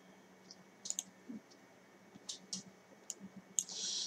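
Several light mouse clicks as the save button is pressed in PhotoScape X photo-editing software, close and quiet, spaced irregularly with a soft rustle at the end.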